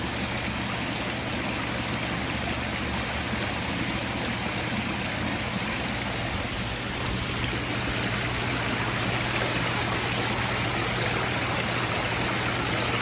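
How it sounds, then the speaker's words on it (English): Water from a waterfall and slide in an otter enclosure rushes and splashes steadily, a dense, continuous broadband roar with no letup and no voices, close and fairly loud throughout. "He's gonna love this part over here with all the water splashing all around."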